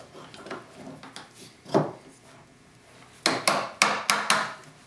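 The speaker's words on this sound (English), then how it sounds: "I'll clean that up with my sharp chisel." A sharp chisel pares the waste from a hand-sawn tenon, giving scattered scraping and light knocking strokes: a few soft hits early, then a quicker cluster of crisp, close taps near the end, with no voices.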